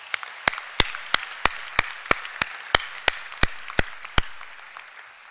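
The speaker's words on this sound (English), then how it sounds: "So I think we should give you guys a resounding applause." Applause from a graduation ceremony audience, a steady broad wash of clapping with a few sharp, louder claps standing out at a regular pace throughout.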